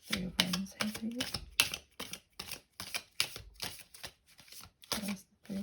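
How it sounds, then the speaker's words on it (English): Tarot cards are shuffled by hand, making a string of crisp, papery riffles and slaps in uneven bursts with short pauses between them, close and clear. "I know I'm not the best at shuffling anyway, but I'm really bad today."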